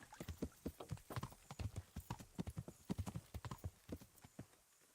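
A horse in the medieval video game Kingdom Come: Deliverance clip-clops along at a steady walking rhythm, hooves striking repeatedly, quiet and fairly close, with no talking.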